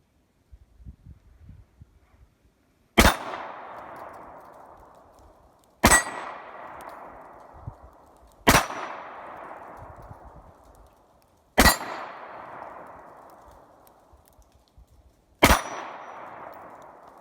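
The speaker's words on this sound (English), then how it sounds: "Today we're shooting a Beretta." Five sharp, loud Beretta 92 pistol shots ring out one by one, a few seconds apart, each ending in a long fading ring, with faint rustling between the first shots and no talk.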